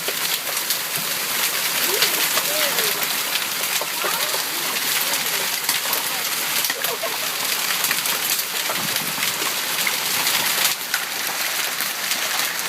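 Heavy rain during a hail storm in Omaha, Nebraska pours down steadily with splashing runoff, a dense hissing wash that stays constant throughout, with occasional faint voices in the background.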